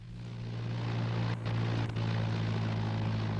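A Fieseler Storch propeller aircraft drones steadily with a low engine hum, loud and continuous, briefly dipping twice, with no voices.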